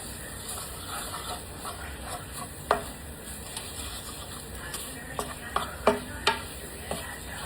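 Butter browning in a pan for a chicken pot pie, stirred continuously; a quiet, steady hiss with scattered light taps and clicks of the utensil against the pan.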